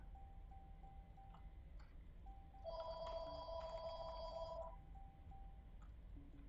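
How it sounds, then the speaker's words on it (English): A telephone rings faintly during a Plane Crazy game session, with a burst of electronic ringing in the middle and quieter beeps around it. "And there's a phone."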